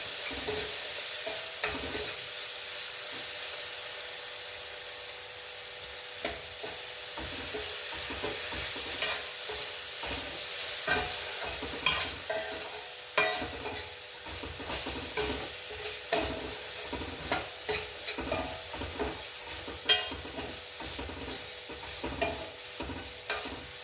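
Steady frying sizzle of amla in tempering oil with repeated scraping and stirring clicks, building in activity toward the end; no talking.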